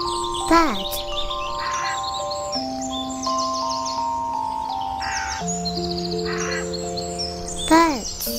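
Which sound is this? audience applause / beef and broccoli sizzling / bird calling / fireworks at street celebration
bird calling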